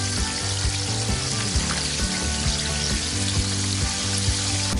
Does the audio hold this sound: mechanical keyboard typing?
no